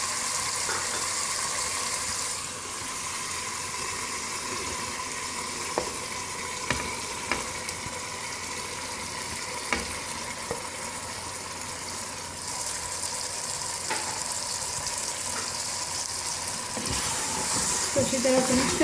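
Masala sizzling and frying steadily in a pan for ridge gourd curry, a continuous close hiss with occasional stirring scrapes and clinks throughout.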